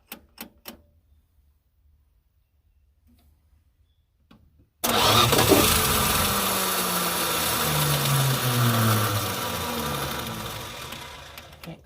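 A long-neglected Plymouth Duster engine, abandoned for two decades, catches after a few clicks and near-silence, then roars loudly and steadily, revving up and down with a rough, uneven tone.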